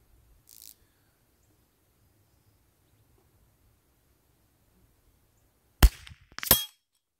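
Two sharp rifle cracks from a Remington 597 ring out close together on a quiet outdoor range, shooting at a 200-yard target, with a faint tick earlier and near-silence between.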